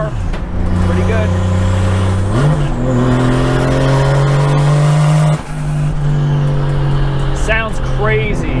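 A Chevy Nova with a swapped 1JZ engine accelerates hard on its first test drive. The loud engine note climbs in pitch, drops briefly at a gear change, then pulls again, with a faint squeal near the end.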